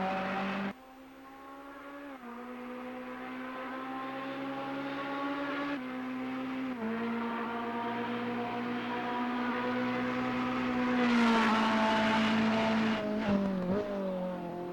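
Ferrari race car engine in Assetto Corsa Competizione at Silverstone, a steady loud drone that drops briefly on downshifts, then climbs in pitch and loudness as the throttle opens.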